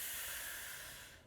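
A deep exhale during a breathing exercise, a soft, faint airy hiss that fades out toward the end, with no speech.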